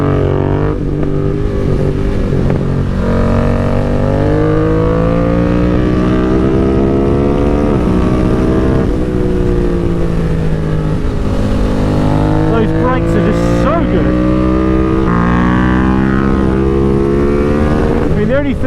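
A BMW F 900 R Cup Racer motorcycle engine under way, loud and continuous with rising and falling revs through gear changes, running under an ongoing voice.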